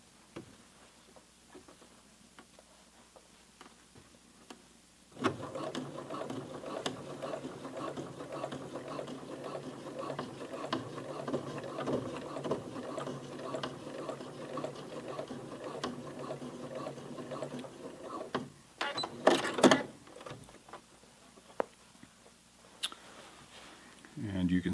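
A home sewing machine runs steadily at close range, stitching over a thick flat-felled jeans seam in one sustained rhythmic whir that ends with a brief clatter and talking.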